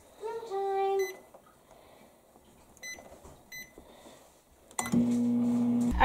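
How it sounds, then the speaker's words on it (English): Electronic beeps sound near the start and again in short bursts, then a steady loud appliance hum begins and runs to the end. "Okay, now let's microwave it."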